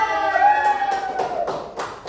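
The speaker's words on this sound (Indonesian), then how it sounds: "Oke, tepuk tangan." A class of students claps their hands in a classroom, a few loose rhythmic bursts of claps following a tonal sound at the start, fairly close and moderately loud.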